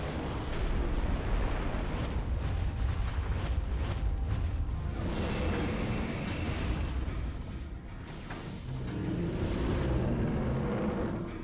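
Explosions rumble around a boss's feet in Metroid Prime 3: Corruption, where Phazon crystals power a protective barrier; loud, sustained booming and crackling blasts roll on continuously, dipping briefly before surging again.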